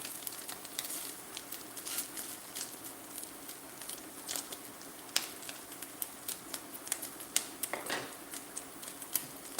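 Cubes of Spam fry in hot oil, giving a soft steady sizzle broken by light crackles and scattered clicks of stirring, faint and close.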